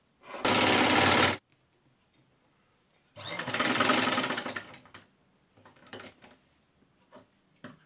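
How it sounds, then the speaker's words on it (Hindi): A sewing machine stitches a raglan baby frock in short bursts: one fast, loud run, a longer run after a pause, then a few brief stitching spurts close by with no talking. "अब हम इसको इस तरह उल्टा करते हुए यहाँ से सिलाई लगाएंगे।"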